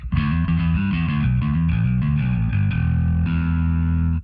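A heavily distorted bass guitar with fresh strings plays a sustained riff with a bright, gritty edge, loud and up close, ending abruptly.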